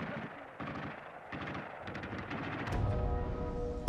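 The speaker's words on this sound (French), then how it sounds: "Il y a même un canon de 150 qui entre dans la danse." A 150 mm artillery gun fires amid wartime battle, producing a series of rough, rumbling booms and blasts over a dense, noisy background that swells louder toward the end, with no voices.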